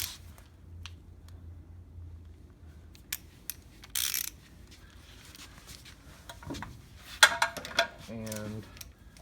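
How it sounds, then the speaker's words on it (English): A torque wrench tightens leveling kit bolts on a 1995 Ford F-150, with scattered ratcheting clicks, metallic clanks and handling noises at close range, fairly quiet, in bursts with pauses between. "Torque wrench"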